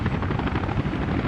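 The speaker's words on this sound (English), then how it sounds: "it's hilariously efficient to get a helicopter to fly up to pick up 13 fucking tons of concrete every time it needs any" Helicopter in the city-building game Workers & Resources, lifting heavy loads of concrete: a steady, dense rotor and engine roar that holds loud and constant throughout, with no talk over it.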